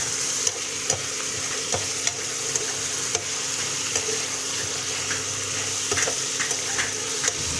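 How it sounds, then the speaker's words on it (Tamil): Bitter gourd fries in oil with onions in a pan, a steady close sizzle broken by regular spatula scrapes and taps, with no voices. "பாவக்காய் நல்லா எண்ணெயில் வதங்கணும் அப்போ தான் கசப்பு தெரியாது"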